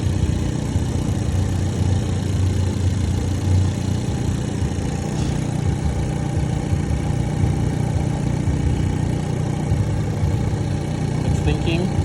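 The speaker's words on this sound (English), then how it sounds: "First startup on its brand new engine." A 2019 Hyundai Veloster on its first startup after a new engine idles steadily and continuously at close range, a constant engine drone that stays level throughout.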